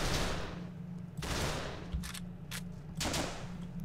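Rapid gunfire from a weapon in the video game The Legend of Alfur comes in repeated sharp bursts, several quick shots in a row, moderately loud with no talking.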